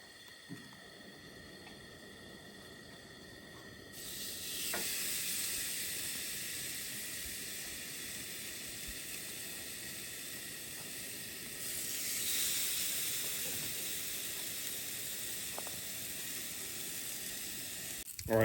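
Duroc bone-in pork chops seasoned with oil and Tony's seasoning sizzling on a camp grill, a broad steady hiss that swells louder twice as the meat settles, with small ticks and no talk.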